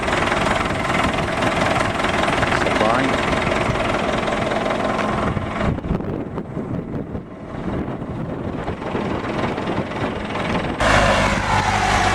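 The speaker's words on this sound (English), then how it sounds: "And now the other trucks are starting to roll in for" Trucks roll in at a remote mission landing, their engines running in a loud, steady diesel rumble thick with wind buffeting. A brief dip comes partway through, then the engine noise swells again near the end.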